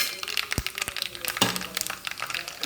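Fenugreek seeds crackling in hot coconut oil while a Kerala mango curry is tempered, a few sharp close cracks and pops over a soft sizzle, no voices.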